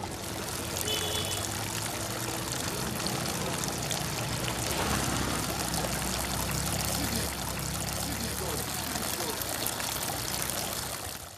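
Water runs continuously from a public tap in Ogun State, a steady splashing pour heard close by for the whole stretch, with background noise and faint voices mixed in.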